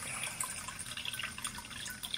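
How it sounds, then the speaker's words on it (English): Water poured from a vessel, a steady bright splashing trickle with scattered droplet sounds throughout, close and moderately quiet with no talk over it. "Simply pour some water"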